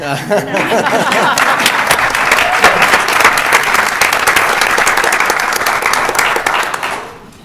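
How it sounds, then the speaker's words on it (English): Audience at a Greeley-Evans school district board of education meeting breaking into loud, sustained applause for a passed bond issue, dense clapping holding steady for several seconds before tapering off at the end. "you certainly can clap"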